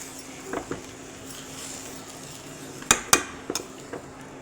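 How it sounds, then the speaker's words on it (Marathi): A spoon stirs sugar into soft carrot halwa in a pan, giving faint scraping with a few sharp metallic clinks and knocks against the pan near the end. "आता आपण हे मिक्स करून घेऊ"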